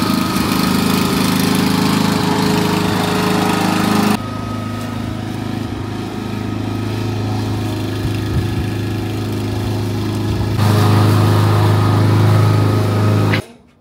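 New lawn mower engine running steadily and loud outdoors, a constant buzzing drone that shifts level partway through and rises again before cutting off abruptly near the end.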